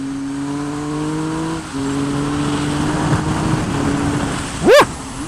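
A 2016 Triumph Speed Triple 1050 R motorcycle pulls hard through third gear, its engine note climbing steadily with a brief dip, then a sharp high rev sweep near the end, loud and close with no talk.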